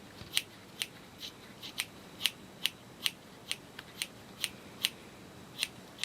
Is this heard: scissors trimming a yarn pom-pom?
yes